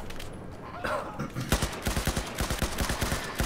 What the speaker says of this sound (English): we start taking rounds, so I know, alright, this guy's shooting at us